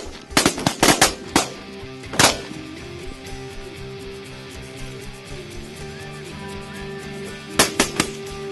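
Shotguns fired by duck hunters in open grassland: a quick cluster of several sharp blasts, a single shot a second later, then another short volley near the end, with outdoor background noise between.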